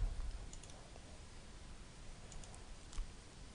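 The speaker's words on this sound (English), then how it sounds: "We click on the add to the list" A computer mouse clicks a few times, soft and close, in a quiet room while a network access query is set up, with faint keyboard-like ticks between the presses.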